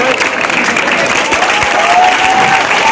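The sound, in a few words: audience applause at award ceremony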